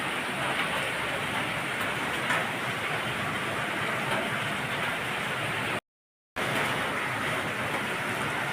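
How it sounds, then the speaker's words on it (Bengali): Heavy monsoon rain pours steadily outdoors, a dense, continuous hiss that stays loud and even throughout, broken only by a brief dropout near the end. "কত জোরে বৃষ্টি শুরু হয়েছে"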